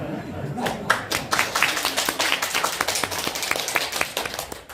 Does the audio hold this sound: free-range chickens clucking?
no